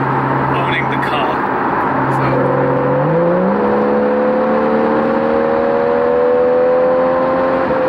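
A Porsche 991.1 GTS is driven along English country roads, its engine note rising steadily as it revs and accelerates through the gears, heard from inside the car under continuous close talk.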